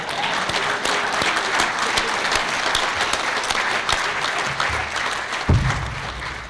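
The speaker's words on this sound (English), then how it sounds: "I'm going to let you clap for Trent." Applause from the audience at a Hall of Fame speech, a dense wash of many hands clapping at a steady level, with a few louder whoops and a low thump near the end.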